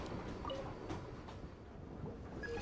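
Rumbling train noise in Genshin Impact as the train blasts out of a mountain, a steady low roar with faint rattling and wind-like rush, fairly quiet and continuous.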